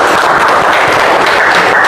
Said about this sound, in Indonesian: Kasih tepuk tangan dulu untuk Mesya.